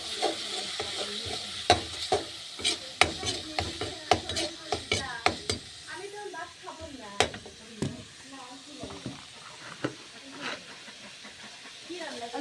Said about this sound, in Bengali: তেলের উপর আমি পেঁয়াজ কুচি দিয়ে দিচ্ছি, পেঁয়াজ কুচি আলু মরিচ কুচি